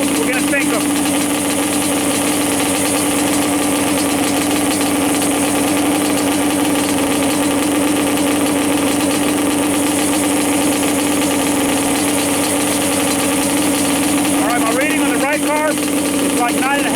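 A Yamaha Banshee engine idles loud and steady during carburetor syncing, holding an even buzzing drone throughout, with a brief faint voice near the end.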